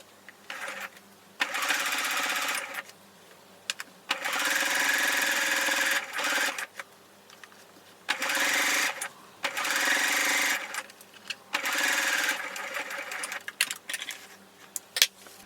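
A sewing machine runs in repeated bursts of rapid stitching, top stitching thick thread through skirt pattern pieces, with short pauses between runs, close and steady.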